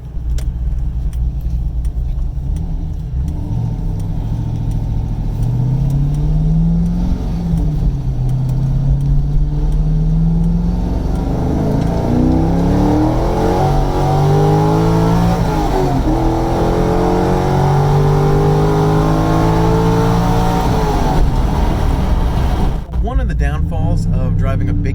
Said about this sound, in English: I'm going to show you some of the performance with the big cam car